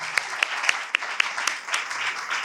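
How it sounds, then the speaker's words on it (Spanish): An audience applauds at a panel talk on writing audio fiction scripts, with a steady patter of clapping and several sharper claps standing out across the whole stretch. "Un aplauso"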